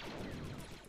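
Commando guns in the Star Wars mod for Men of War: Assault Squad 2 firing continuously, a dense, loud wash of rapid gunfire with no breaks across the brief moment.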